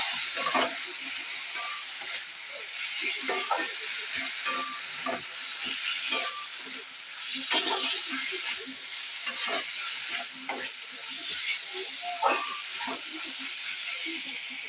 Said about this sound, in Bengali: আলুটা দিয়ে একটুখানি কষিয়ে নেব